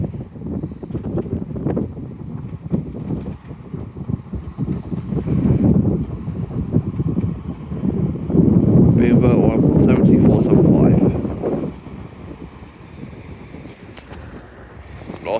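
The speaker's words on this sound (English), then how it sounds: "Arriving in now is the Northern Trains Turbo Star, working" A Northern Trains Turbostar diesel unit running empty from Neville Hill pulls into York station, a low rumble swelling and fading while someone narrates over it.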